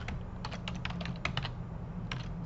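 Computer keyboard being typed on while entering a spreadsheet formula, a quick irregular run of close key clicks over a low steady background hum.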